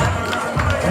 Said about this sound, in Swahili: Apige makofi.